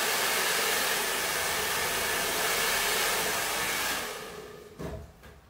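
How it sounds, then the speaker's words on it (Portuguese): A hair dryer blows loudly and steadily at close range for about four seconds, then switches off and winds down, followed by a couple of faint handling knocks. "posso ligar o secador?"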